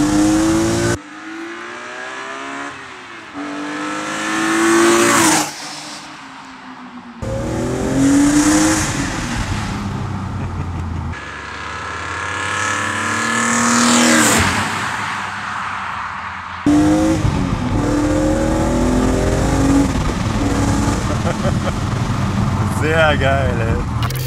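A BMW E86 Z4 M Coupé with a naturally aspirated engine, 343 PS and an Eventuri intake, accelerating hard through repeated rising revs and gear changes, heard loud from inside the cabin while people talk over it.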